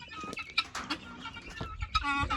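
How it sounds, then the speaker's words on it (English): Clucks from a free-roaming chicken in a farm yard, a few short close calls scattered across a brief moment with some background rustle. "This is our wild chicken that we let run around the yard."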